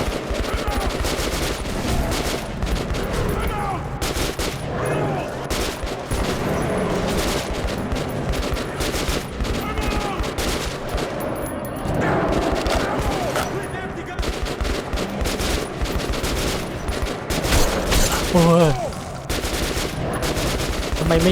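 Gunfire from the video game Metro 2033 Redux: dense, sustained automatic bursts fill the whole stretch, loud and continuous with scattered heavier shots and game effects layered in.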